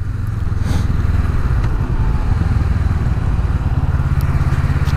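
A Honda Rebel 500 motorcycle rumbles loudly and steadily while being ridden, its engine thrumming close and continuous with road noise throughout.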